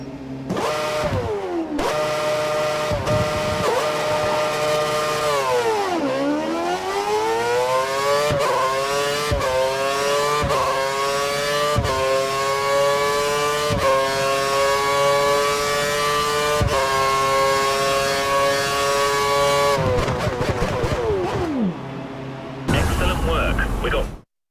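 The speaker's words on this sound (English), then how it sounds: "Head down the track, accelerating past 160 miles per hour, then brake so that you come to a complete stop in the designated area" Formula One car in the racing game F1 2013 screaming through repeated upshifts, each pitch sweep climbing then dropping at a gear change, loud and close, ending with a sharp cut as it stops.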